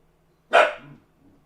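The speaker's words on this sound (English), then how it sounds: "He gave a little bark." A single short dog bark, close and fairly loud, rising sharply and trailing off within half a second, with near silence around it.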